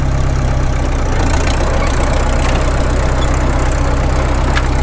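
A Caterpillar D2 bulldozer's engine runs steadily with a deep, even rumble while the machine moves off in first gear. The sound is loud, close and continuous throughout.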